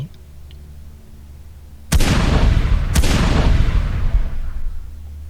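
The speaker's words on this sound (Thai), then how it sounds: "จู่ก็ได้ยินเสียงปืน ดังขึ้นมาสองนัดซ้อน" Two sharp gunshots about a second apart, loud and close, each followed by a long rumbling echo that lingers.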